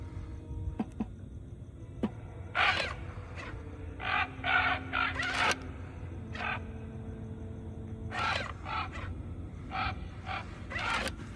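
Animatronic raven from a Halloween haunted-mansion decor display, cawing in several harsh, repeated bursts at close range over a steady background hum, with no talking.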